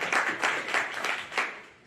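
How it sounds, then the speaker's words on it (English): An audience at a community event claps briefly, with a few uneven bursts of applause that fade out within two seconds. "let's give a round of applause to that guy"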